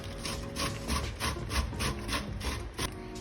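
Cabbage is rubbed down the coarse side of a grater in quick, rhythmic strokes, each pass giving a close, scraping rasp with faint mechanical clicks and no talk.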